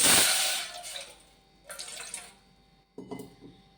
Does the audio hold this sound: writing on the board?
no